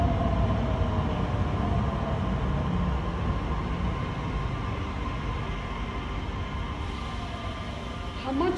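Broadband rumble of a Doha metro train running between Al Bidda and Al Riffa, a steady continuous roar heard from inside the car, with faint voices under it.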